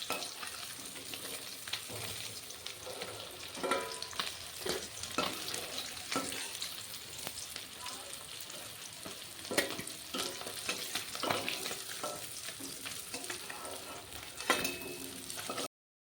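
Fish fry in hot oil for a Bengali fish curry with cauliflower, a steady close crackle and sizzle broken by sharper pops and scraping stirs throughout.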